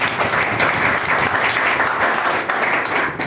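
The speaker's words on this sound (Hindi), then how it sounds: "तो एक बार जोरदार तालियों के साथ उनका धन्यवाद।" A steady, dense wash of applause from a crowd, sustained throughout without pause.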